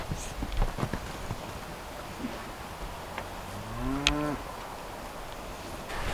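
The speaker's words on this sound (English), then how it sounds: "now we're gonna go let the steers out into this pasture" Steers moo at a distance while being let out into a pasture, one long drawn-out low call rising and falling, with faint hoof steps and shuffling on the ground.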